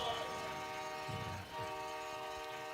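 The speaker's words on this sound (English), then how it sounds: "You can sound that train horn" A train horn sounds at a high school football stadium after a touchdown, sustained harmonic blasts carrying through crowd noise and stadium ambience, fairly distant and steady throughout.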